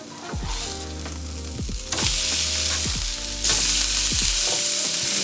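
Chicken pieces sizzle loudly in a pan after being flipped, a continuous bright frying hiss with a few sudden surges as the meat is turned.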